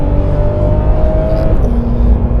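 A Porsche GT3 RS with its standard, non-sports exhaust drives in normal mode on wet roads, a steady low engine drone with a faint whine and a slight shift in pitch midway.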